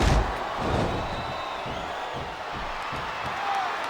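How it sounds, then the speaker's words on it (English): Crowd noise from a wrestling arena in the video game WWE SmackDown vs Raw 2007, a steady roar of cheering that fills the whole stretch and swells slightly toward the end. "Listen to the crowd, JR."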